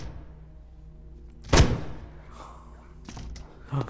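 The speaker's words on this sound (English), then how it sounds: "I can hear them banging on doors and stuff." Zombies banging on doors in the video game The Dead Linger: a single heavy thud lands, then fainter knocks and bumps follow in a quiet, low-rumbling background, ending with another dull thump.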